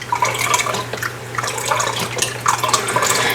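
Milk poured into a pan while making homemade cheesesteak hamburger helper, a steady close liquid splash and gurgle that runs continuously with small surges, with no talking.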